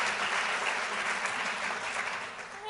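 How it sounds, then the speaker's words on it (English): Dense, even applause from a keynote audience, a continuous wash of many hands clapping at steady loudness. "Yes, that deserves a round of applause."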